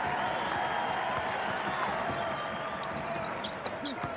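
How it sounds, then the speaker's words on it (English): Crowd in a basketball arena at a 1987 college game, Marquette at North Carolina, a steady murmuring roar of many voices with scattered shouts and whistles, distant and continuous. "the crowd getting a little bit impatient here"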